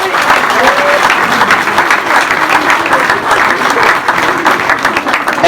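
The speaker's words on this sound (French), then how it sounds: "applaudissez-le." Volunteers at a village party in Saint-Servant burst into sustained, dense applause for a helper named Henri, steady and loud from start to finish with a crowd murmuring beneath.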